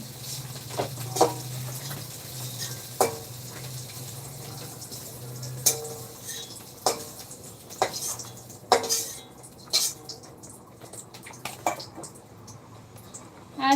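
Vegetables cooking in a pot while being stirred, the spoon giving irregular clinks and scrapes against the pot over a steady low hum, moderately close and fairly quiet.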